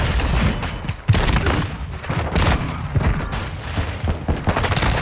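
Shotgun fire in Modern Warfare with a Chimera loadout, heavy booming blasts repeating over a dense, continuous wash of gunfire and explosions, loud and close throughout.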